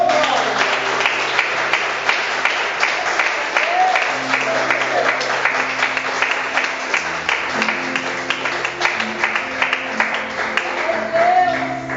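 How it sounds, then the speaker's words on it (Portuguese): Church congregation clapping together in worship at the start of a service, a steady dense patter of many hands filling the room, with music or singing tones running underneath throughout. "Vamos iniciar saudando e adorando Jesus com nossas palmas."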